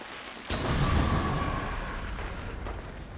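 Another grenade detonates in the video game Hunt: Showdown, a sharp, close boom that strikes after a brief quiet moment and then rolls into a long, loud, rumbling decay.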